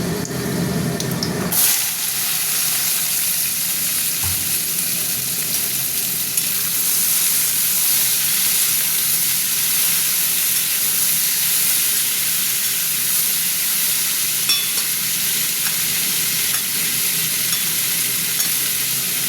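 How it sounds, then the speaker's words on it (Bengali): Vegetables with potato sizzle loudly in hot oil seasoned with panch phoron, a dense continuous hiss after a brief clatter at the start, close and without talk. "সবজিটা ভাজা ভাজা হোক"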